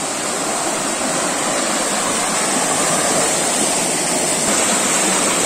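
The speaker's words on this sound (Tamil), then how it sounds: "இதான் வள்ளி ஆறு." The Valli river rushes as a steady, loud broadband flow. The river runs out to the sea at Kadiyapattinam. The water sounds close and unbroken, with no voices.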